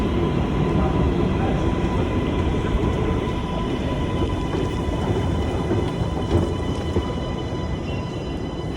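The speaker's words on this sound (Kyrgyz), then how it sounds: "Метрос тезде келет болуш керек." A Sofia metro train pulls into an underground station with a steady, loud rumble and rattle of wheels that fills the whole stretch, and faint voices sound beneath it.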